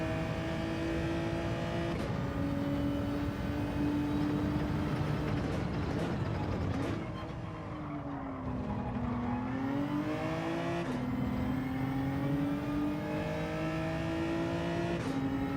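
Race car engines in Gran Turismo 7 during a daily race at the Red Bull Ring, a steady loud drone with pitch climbing through gears, dipping and rising again as shifts crack through, continuous throughout.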